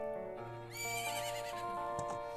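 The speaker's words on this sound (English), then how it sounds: "is that my beloved, my trusty steed?" A horse neighs in the video game The Legend of Zelda: Majora's Mask 3D, a bright whinny rising over steady in-game music tones, fairly quiet and with no talking.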